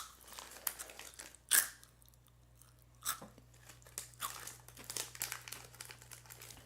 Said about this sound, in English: This is a crunchy crunch.